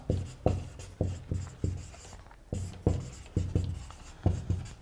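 Pen scratching on paper while a fact about Saturn is noted down, a steady series of rhythmic strokes, close and clear, with no voices.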